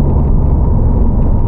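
A 400 hp Honda Civic with traction control switched off accelerates hard, its engine a loud, close, continuous roar over a brief burst.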